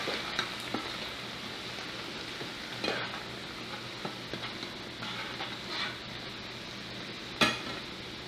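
Beef broth poured into a hot pan of carne guisada, a soft steady sizzle and bubbling with occasional clinks and scrapes of a utensil against the pan, no talking.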